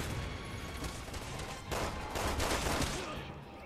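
Machine gun fire in the video game Resident Evil 6 plays in a co-op session as rapid continuous bursts over dense game noise, growing heavier midway and staying busy throughout.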